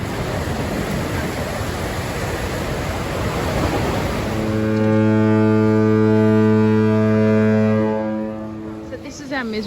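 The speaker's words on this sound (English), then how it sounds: "we might hear the foghorn" A cruise ship's foghorn on the Golden Princess sounds on a grey day at sea, a loud sustained blast of steady deep tones breaking in after several seconds of broad wind and wave rush, then holding for about three seconds before fading.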